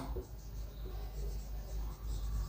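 Writing on a board during an English grammar lesson, with repeated scratchy strokes over a low hum and a voice speaking.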